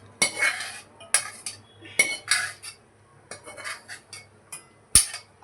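A metal spoon stirs chicken in a cooking pot, giving repeated sharp clinks and scrapes against the pot in an uneven rhythm, close and clear with no talk.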